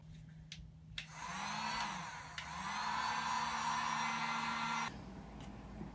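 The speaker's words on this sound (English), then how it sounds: "just use a heat gun" A cheap Harbor Freight heat gun heating the end of a PEX pipe for a T-valve fitting during a water heater install in a coffee trailer. It gives a steady, close blowing whir with a faint hum that runs about four seconds, then cuts off.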